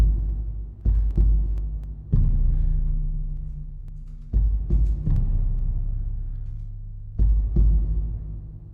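Heartbeat-like percussion in a trailer score, deep booming hits landing in irregular pairs and clusters, each followed by a long droning decay, loud and alone with no talking.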